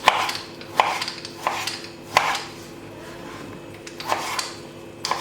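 A knife chops potatoes on a cutting board, sharp irregular thuds spaced about a second apart, some in quick pairs, close up.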